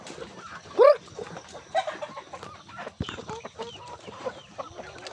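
Rhode Island chickens in a coop cluck and squawk close by, with one loud call near the start and scattered clucks after.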